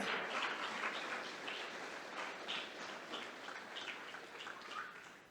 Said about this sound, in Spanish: Dale un aplauso a ese Rey de reyes y Señor de señores.